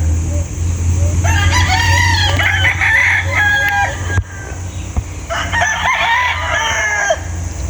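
Roosters on a farm crow in long wavering calls, two bouts separated by a pause, over a steady low hum and scattered clucks nearby.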